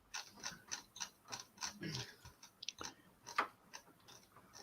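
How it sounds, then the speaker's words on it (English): Screwing side parts onto a Routemaster bus scale model, with quiet, irregular ratcheting clicks and small mechanical ticks from a screwdriver close by, faint and uneven with brief pauses. "before I screw the side bits on"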